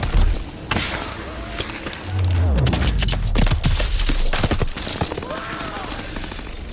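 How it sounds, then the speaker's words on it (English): Gunfire and explosive bursts from the Call of Duty: Advanced Warfare campaign in Atlas City, with a rolling fusillade of shots, a heavy boom, and breaking debris over a dense game soundscape. "Nice shot, Ilona!"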